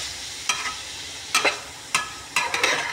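Leftover lechon kawali pieces being stir-fried with bitter gourd (ampalaya) on low heat; several separate scraping stirs and brief sizzles sound close and moderately loud, with no one talking.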